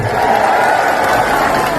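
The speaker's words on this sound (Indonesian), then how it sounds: "Tepuk tangan buat semua yang di sini" Crowd at a political rally in Ciamis, West Java, applauding and cheering as a dense, steady roar of clapping and voices held at a loud level throughout.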